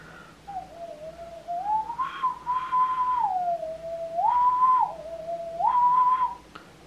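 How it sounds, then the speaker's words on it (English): A Vietnamese nose whistle plays a simple wavering tune of sliding notes that rise and fall between two pitches, clear and breathy, played alone for several seconds. "fun, cute, weird instrument, a Vietnamese nose whistle"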